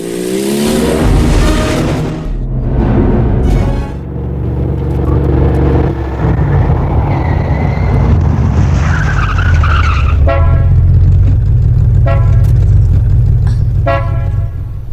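A motorcycle engine roars loudly up close, its pitch rising as it accelerates away, with horn toots and tire skids mixed in.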